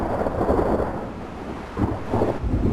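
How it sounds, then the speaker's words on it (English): Low rumbling thunder from a spring thunderstorm rolling in over Texas cotton fields, a steady broad roar that swells twice, with no voices. "it looks like it's the time of the year for our spring thunderstorms to come through here"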